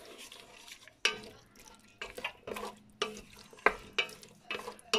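Chickpeas being stirred in a cooking pot, a spoon scraping and clacking against the pot in several distinct strokes over a faint sizzle, close and moderately loud with no talking.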